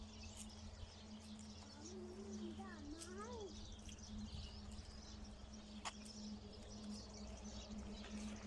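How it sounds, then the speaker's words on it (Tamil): Small birds chirping in a wooded setting, a faint sweeping warble and scattered short tweets heard far off beneath a steady hum and background noise. "இப்போ காட்டுக்குள்ளே இருக்கிற மாதிரி குருவியெல்லாம் சவுண்டு கொடுத்துருங்க"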